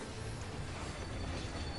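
A train in Final Fantasy XIV gives off a dense, continuous rumble and hiss, loud and close, with no talk over it.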